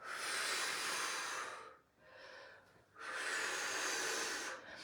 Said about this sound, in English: As you come down, exhale all the air, every last drop.